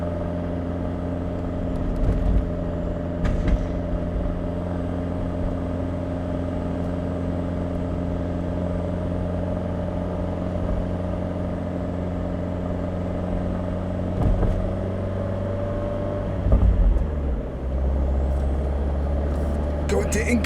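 An Abarth 124 Spider cruises at night with its exhaust valves shut, giving a steady, subdued engine drone with a low hum throughout and a couple of brief thumps near the end.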